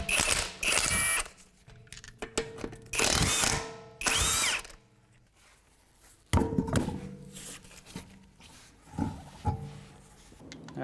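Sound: power tool removing wheel from Acura MDX

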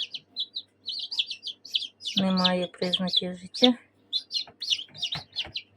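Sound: newly hatched goslings chirping

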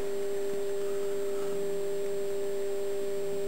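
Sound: Bedini stepper motor circuit running

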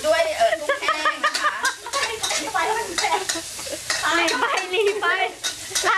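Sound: stir-frying pad thai in a wok on a charcoal stove

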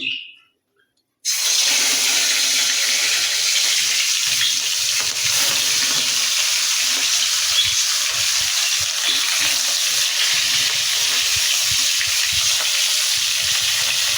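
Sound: fish frying in hot oil

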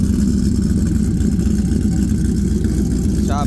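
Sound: Whipple supercharged Ford Lightning truck idling

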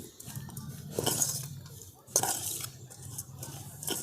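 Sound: mixing spiced ingredients together in a bowl

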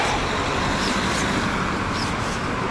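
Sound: road traffic, passing cars

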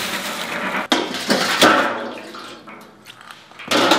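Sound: washing peas in water

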